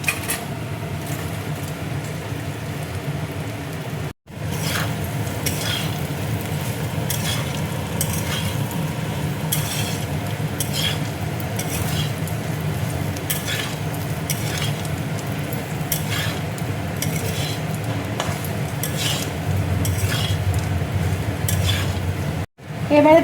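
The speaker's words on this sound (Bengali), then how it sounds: "এবার দেখো ভিন্ডির পকোড়াগুলো আমি দিয়ে দিচ্ছি।" Okra pakoras sizzling and frying in a pan with spices, a steady loud sizzle with stirring scrapes throughout, briefly cut off near the start and end.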